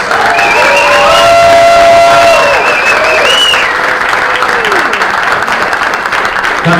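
Loud crowd applause with cheering from a convention audience at a Children of the Corn Q&A, sustained and fairly close, with a tonal voice or music line running through the first half.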